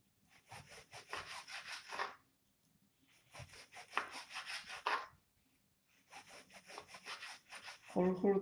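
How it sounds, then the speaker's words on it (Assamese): A knife cutting salted shark fish into small pieces, heard as close, rhythmic sawing strokes in three separate bursts with short quiet pauses between them. "সৰু সৰু পিচ কৰি লৈ লৈছোঁ মাছখিনি।"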